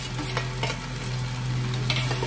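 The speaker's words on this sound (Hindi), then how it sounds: "अब हम इसमें 6 से 7 बारीक कटी हुई हरी मिर्ची डाल देंगे" Finely chopped green chillies being added to a pan of okra for masala bhindi, giving a steady close sizzle of frying with soft stirring scrapes and no voices.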